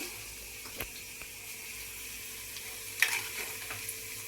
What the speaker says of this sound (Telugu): డీప్ ఫ్రై మొత్తం మధ్య మధ్యలో ఇలా మిక్స్ చేసుకోవాలి.